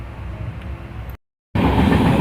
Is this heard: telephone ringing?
no